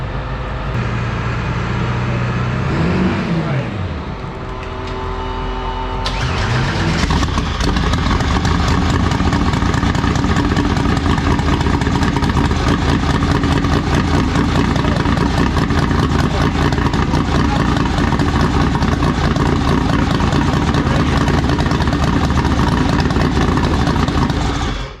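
A Pontiac Fiero's supercharged 3.8-litre engine on an E85 tune catches on its first start, running rich and spraying fuel. After a few seconds of cranking it settles into a loud, steady, rough idle that continues close up.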